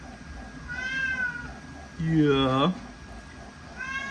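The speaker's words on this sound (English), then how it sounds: "Hope you guys can hear his meows" A male house cat meows in a drawn-out, rising and falling call near the microphone, with a fainter meow before it and another starting at the end, while a person talks quietly over room noise.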